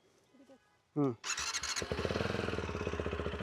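A starter whirs briefly, then a TVS Apache RTX300 motorcycle engine catches and settles into a fast, steady idle, close by and loud.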